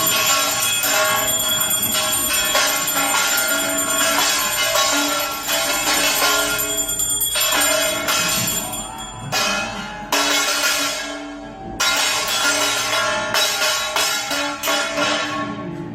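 A gong struck during prayer, heard from played-back footage: dense, sustained metallic ringing with bright overtones that carries through almost the whole stretch, briefly cut off and resuming a few times.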